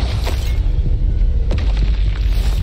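The Bombarda explosion spell goes off in Hogwarts Legacy during a fight. Deep booming blasts and rumbling bursts sound loud and close, with a sharp impact near the midpoint and no talking.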